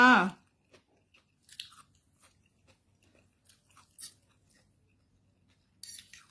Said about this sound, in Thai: กินยำขนมจีนจ้าเพื่อนๆ เต็มจานเลยอร่อยค่ะ